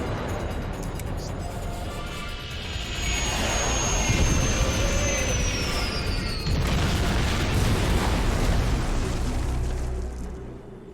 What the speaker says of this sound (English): Get us on the ground, Commander. Crash position. Ready for impact.